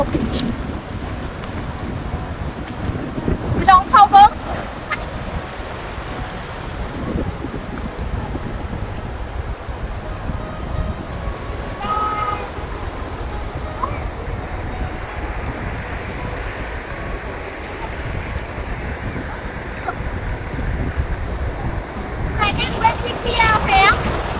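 Wind and ocean surf at Bang Saen beach in Thailand make a steady roar, with gusts buffeting the microphone and waves washing in continuously, and faint voices at moments.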